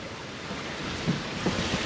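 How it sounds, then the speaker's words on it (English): Open-ocean waves and strong wind at sea during a solo passage on a 30-foot sailboat. The sound is a steady broadband wash with no talk, and a few soft surges of surf break through it. "The seas are finally catching up with these big, big winds."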